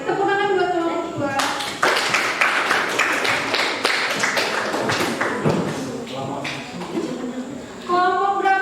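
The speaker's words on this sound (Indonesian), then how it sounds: "tepuk tangan buat kelompok 2" Classroom applause for a student group after their presentation, a dense burst of many hands clapping that fills most of the stretch, with talk heard before and after it.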